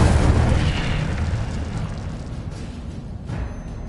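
Incendio fire spell cast in the Hogwarts Legacy video game, a loud booming whoosh of flame that bursts at the start and rumbles down over a few seconds.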